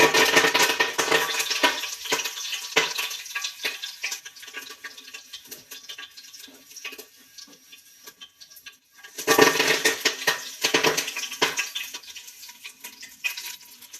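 Mustard seeds splutter in hot oil as a tempering for sprouted horse gram sambar, a close, crackling sizzle with dense popping that thins out and then bursts back louder about two-thirds through.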